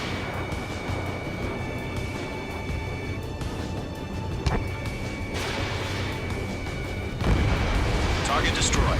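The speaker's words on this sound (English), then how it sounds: "Target destroyed. 3 to go." A rumbling explosion and booming impacts from the Ace Combat 7 video game roll under constant jet and wind noise, with a sharp crack midway and a heavier blast near the end.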